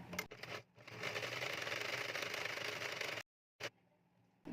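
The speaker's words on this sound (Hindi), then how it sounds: "यहाँ पर भी एक सिलाई लगाकर इसको पक्का कर देंगे।" Sewing machine stitching the neckline of a boat neck blouse, a steady close whirring run of about three seconds that stops abruptly, followed by a short burst and quieter handling.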